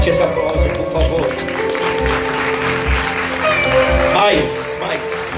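Church congregation clapping together in a steady, fairly loud burst of applause, with a voice speaking and music running underneath.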